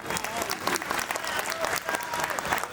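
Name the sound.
audience applause at a musical night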